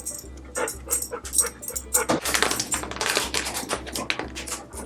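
A dog pants rapidly and rhythmically close by after a walk, quick breathy bursts running on over a steady low background hum.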